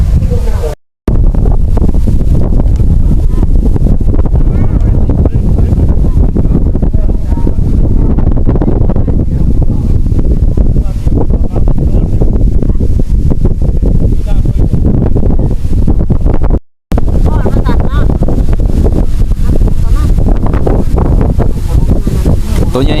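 Strong wind buffets the microphone beside a wide 70-rai pond during winter fishing, a loud continuous roar through nearly the whole stretch, broken by two brief dropouts.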